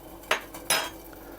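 Two short metallic clinks and splashes as metal branch blanks for a metal tree drop into a pot of boiling water, each a sharp hit that fades quickly, close and alone.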